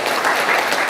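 An audience at an academic lecture applauds, a dense, steady patter of clapping filling the whole second at moderate loudness.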